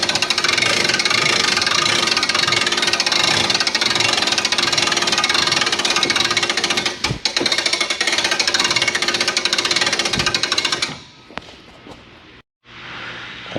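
The electric lift mechanism of a StarCraft 2407 camper runs to raise the unit with a loud, steady rattling motor drone for about eleven seconds, then cuts out, leaving brief faint clicks and quiet.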